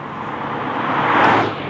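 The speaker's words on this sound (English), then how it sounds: "inside the cabin here, you're really hearing the air intake noise, which Acura actually sort of pipes into the cabin right behind your head" Inside the cabin of a 2017 Acura NSX at full throttle, air intake noise piped in right behind the driver's head gives a loud, rising roar that swells and then eases slightly.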